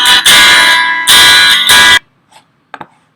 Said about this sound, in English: So here we have acoustic guitar.